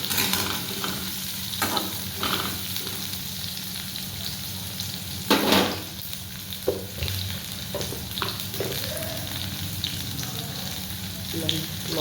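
Garlic and chili sizzle steadily in hot oil for a Bengali prawn bhuna, a continuous close frying hiss broken by a few louder stirring scrapes, with no talking.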